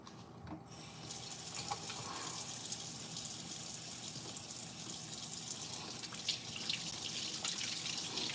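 Tap water runs steadily into a kitchen sink as green peppers are rinsed for spaghetti sauce, a continuous close splashing gush with faint drips and no talking.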